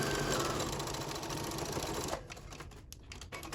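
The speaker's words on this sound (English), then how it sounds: "just push the edge into the center of the bias tape and sew it once on the top" A sewing machine stitches bias tape onto the edge of a fabric face mask, a steady close whirring run for about two seconds before it stops, leaving quieter handling noise.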